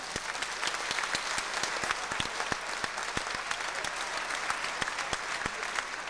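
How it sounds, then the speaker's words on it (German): An audience applauds at an IFBB bodybuilding championship in Hamburg, giving sparse, distinct claps that pop out over a quieter bed of clapping, heard at a moderate distance with no talking. "Ein Applaus begleitet Sie in den Aufwärmraum."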